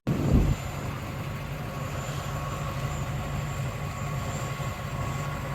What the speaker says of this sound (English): I do like seeing my tractor at work.